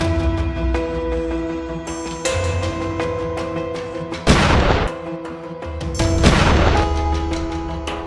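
Rifle shots fired while coyote hunting in the field, two sharp loud bursts a couple of seconds apart over a background of steady outdoor noise.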